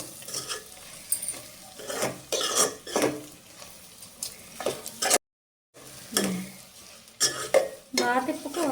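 Eggs scrambling in a village-style pan, with uneven bursts of spatula stirring and scraping over a light sizzle, close by, a brief silent gap midway and a faint cough.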